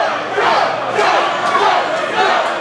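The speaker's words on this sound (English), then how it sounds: "the crowd is on Joe's side" A live wrestling crowd roars and cheers continuously, a dense, loud wash of voices filling an arena.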